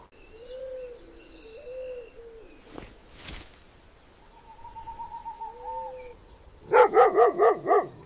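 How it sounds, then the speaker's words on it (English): Primates give aggressive warning barks on an arid African prairie, a close burst of about five rapid, loud barks near the end, after softer tonal calls and a short thud. "Opportunists hear the aggressive warning barks."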